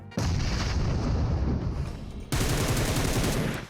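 Loud, continuous bursts of automatic gunfire from the PUBG Mobile Metro Royale battle game, rapid shots crackling almost without pause, broken by a brief dip before another sustained volley.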